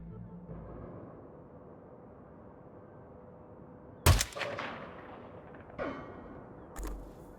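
Gunshots fired at a crate in the Hitman 2 video game: a sharp loud blast around the middle over a steady ambient game hum, followed by two or three smaller impact bursts and crackling debris, with no talk.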